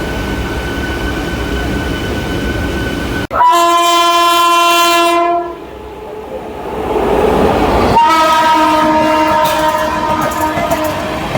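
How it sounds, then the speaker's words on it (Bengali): Howrah–Dehradun Doon Express passing close by, a loud sustained rumble of wheels and cars with a harmonic horn blast near the start and another sounding again later, continuous throughout. "এইদিকে চলে যাচ্ছে হাওড়া দেরাদুন দুন এক্সপ্রেস।"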